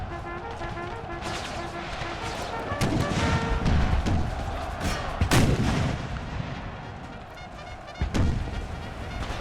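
Militia muskets fire during an Empire: Total War battle from the Brothers vs. Brothers mod, with repeated sharp volleys and booming artillery-like blasts over a continuous rumbling battle din, loud and dense, with faint talk in the background.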